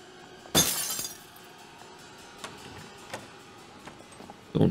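Glass shatters with a sudden loud crash in the horror game Until Dawn, its bright crunch fading over half a second, followed by a few faint ticks and a second sharp impact at the end.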